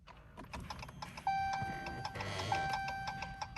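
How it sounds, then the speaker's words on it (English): Dashboard chimes in a 2015 Chrysler 200 as the ignition is turned on, two clear electronic tones ringing over quiet clicking and ticking, fairly soft and close. "Let's turn on the ignition."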